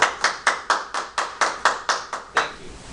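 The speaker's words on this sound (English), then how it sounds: "Let's give her a round of applause." In a class, listeners clap together in an even, rhythmic beat, about ten crisp, loud claps in quick succession that are close and clear, then the clapping stops.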